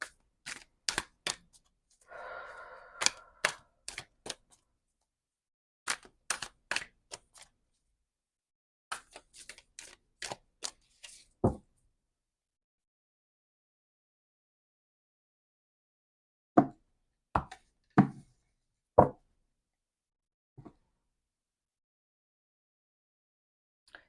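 Crisp, rapid riffling and snapping of tarot cards in short bursts, separated by pauses of near silence, then a few isolated sharp taps.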